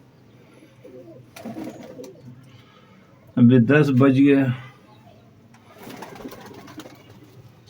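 Pigeons at a loft coo in soft bursts, with one loud, close cooing phrase in the middle, while someone talks briefly nearby.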